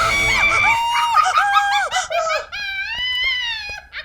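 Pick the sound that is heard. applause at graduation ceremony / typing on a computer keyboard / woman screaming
woman screaming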